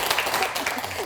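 Studio audience on a Korean TV health talk show gives a brief burst of clapping, close and lively, over in about a second.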